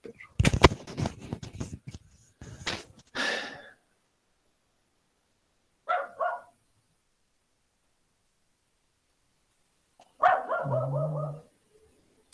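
A dog barks and yips in a few short, separate bursts at moderate distance, following a stretch of clattering at the start with long quiet gaps between the sounds.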